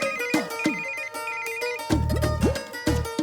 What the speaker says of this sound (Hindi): पाजी गुड्डू दे फोन पे प्राइवेट नंबर।